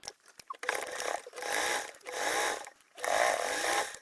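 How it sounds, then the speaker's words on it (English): A sewing machine runs a quarter-inch seam along a fabric edge in three steady, buzzing bursts of a second or so each, with short pauses between, close and loud, no voices. "we're just going to sew along that edge with a 1/4 inch seam allowance"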